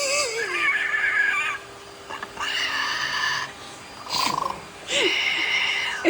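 A parrot imitating a tiger, giving several short raspy, squealing bursts separated by brief pauses, fairly loud and close with no talking over it.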